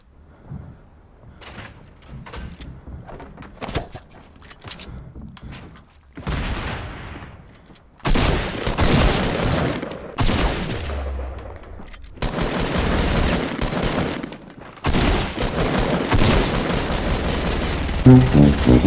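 Gunfire in Fortnite Battle Royale comes in bursts of rapid shots and single cracks, loud and close, with short quiet gaps and denser volleys building toward the end.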